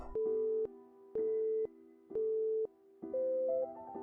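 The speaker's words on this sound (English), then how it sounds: "And then, the phone hangs up." A telephone busy tone follows a hung-up call, sounding as a steady series of short, evenly spaced beeps of about half a second each, with the last one shifting pitch, clear and alone.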